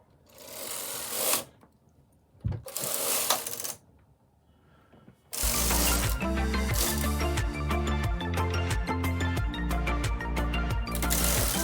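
A Knitmaster 323 knitting machine carriage makes two short, loud swooshing passes separated by quiet gaps, then a continuous mechanical run with music underneath.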